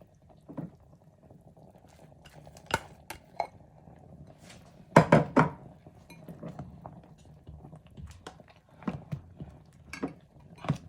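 A spoon stirs slimy okra soup in a pot, giving scattered metallic clinks and scrapes against the pot between soft wet squelches, fairly close and irregular, with no talking.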